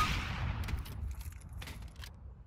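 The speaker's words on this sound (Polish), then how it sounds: "Aj, szkoda, że Vortex oddał strzał" Gunfire in the Overwatch video game, a burst of sharp shots that starts the clip, then fainter scattered shots and game effects over a steady low rumble, with no talking.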